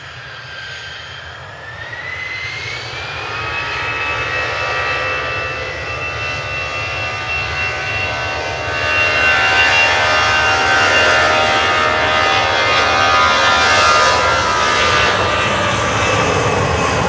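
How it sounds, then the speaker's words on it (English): An Icelandair Boeing 757-200 jet roars steadily at Manchester Airport, its engine whine rising in pitch and growing louder as it passes close, heard alone without talk. "Iceland Air 757-200."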